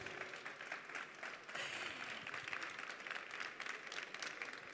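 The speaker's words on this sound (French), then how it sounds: "Vous pouvez l'applaudir." An audience at a festival talk applauds a speaker, a sustained round of many hands clapping that swells slightly partway through and continues steadily, heard from a modest distance.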